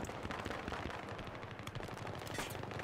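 Gunfire in the Battlefield video game, a dense, rapid automatic rattle that runs nonstop and sounds somewhat muffled and distant.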